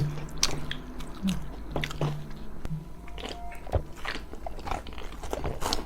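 Crisp crunching bites and chewing of convenience-store fried chicken close to the microphone, several crackly bursts with soft murmurs in between.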